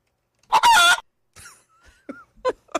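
A short burst of loud clucking and squawking from a fowl, followed by a few quieter scattered clucks and calls.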